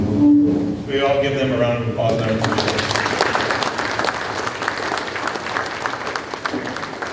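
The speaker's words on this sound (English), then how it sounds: "We all give them a round of applause." A room of attendees at an annual meeting bursts into applause for current and past employees and board members; a voice trails off first, then steady, moderately loud clapping fills the room and continues evenly.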